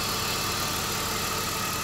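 A BMW 2.5-litre gas-petrol engine idles steadily at close range, a constant low rumble with a faint hum and no voices.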